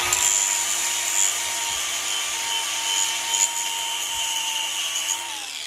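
A steel push mower blade edge being sharpened with a power grinder, a steady high-pitched whining grind with faint scraping, close and continuous, no voices.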